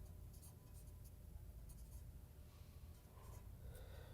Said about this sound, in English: I'm going to write it here just so I don't forget.